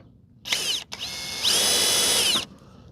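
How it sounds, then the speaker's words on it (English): A power drill bores through a thin aluminum radiator without a center punch, giving two short whining bursts and then a longer, steady, loud grinding run up close. "Do the same thing, drilling the radiator."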